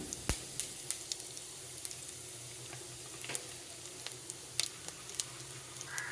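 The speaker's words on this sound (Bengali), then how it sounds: "একটু জিরে দিয়ে দিলাম, ফোড়ন একটু বেশিই দিলাম" Cumin seeds crackle and sizzle in hot oil for a tempering, a steady frying hiss dotted with sharp little pops throughout, with no voices.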